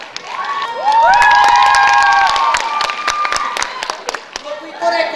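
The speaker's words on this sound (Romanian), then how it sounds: "Să-i aplaudăm!" Audience at a high school freshmen ball in Romania cheers and applauds loudly, a sustained burst of clapping and shouts with whistles, fading slightly toward the end.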